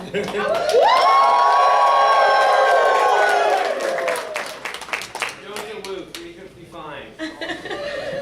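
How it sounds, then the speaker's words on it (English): A convention audience cheers loudly together in a sustained burst of whoops and shouts, then fades into scattered voices and chatter. "No, like a real cheer."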